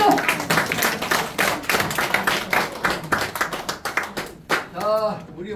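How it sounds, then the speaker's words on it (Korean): Audience applause at a year-end gathering of a Korean lecturers' association, welcoming a guest instructor: dense, fairly loud clapping that runs throughout, with voices mixed in and a burst of laughter-like vocalizing near the end. "큰 박수로 맞아주십시오"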